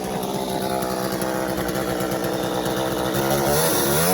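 A chainsaw runs continuously at close range, a loud buzzing two-stroke drone with slight pitch wavering and no pauses.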